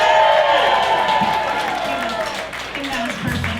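Audience at a feminist comedy show and coloring party clapping and cheering loudly, a dense crowd wash that slowly eases over a few seconds while voices mix in beneath it.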